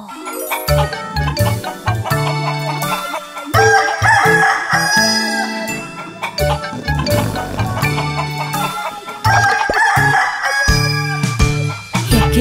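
A rooster crows and chickens cluck in a chicken coop, repeated several times over a busy, bright musical backing in a children's song.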